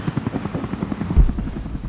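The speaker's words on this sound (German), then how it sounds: "Oh, ich habe Hubschrauber." Helicopter in the video game Rise of the Tomb Raider, a steady low rotor chop pulsing throughout with a brief louder thump near the middle.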